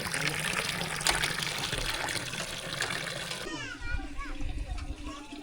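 Water gushes steadily from a newly installed hand pump in rural Sindh, a constant splashing flow under children's voices and chatter nearby, with the splashing turning more watery and bubbly toward the end.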